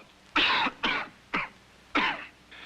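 Four or five harsh coughs in quick succession, close and loud, with short pauses between the bursts.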